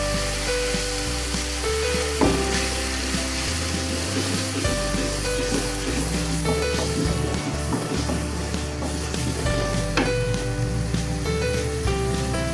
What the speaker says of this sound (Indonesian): Kita tumis bumbu halusnya.